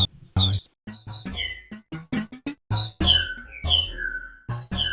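Bright, rapid bird chirps and tweets in a quick, loosely melodic run, with a low thumping beat underneath, loud and close.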